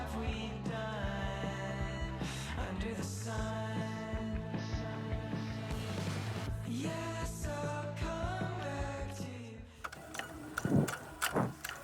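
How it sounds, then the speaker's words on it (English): A sewing machine stitching the lining onto the front bodice of a red crepe dress, its faint mechanical whir running under a long stretch of music, followed by a few close clicks and knocks of handling. "So now I am attaching the lining to the front bodice and including the strap that will go in the front between the layers."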